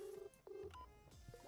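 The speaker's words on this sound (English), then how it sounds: "Oh, we're getting a phone call." An incoming phone call in the Nintendo Switch 2 game Go-Go Town rings as a quiet series of short electronic beeping tones in a quick repeating pattern.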